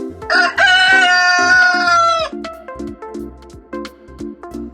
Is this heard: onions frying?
no